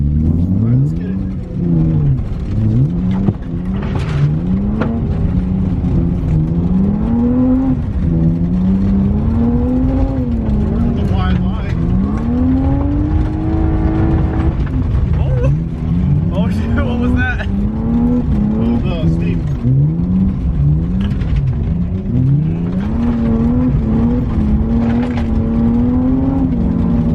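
BMW E36 drift cars tandem drifting on gravel, engines revving hard and rising and falling in long sweeping waves as the cars slide, with loud onboard drone, crunching gravel and people talking over it.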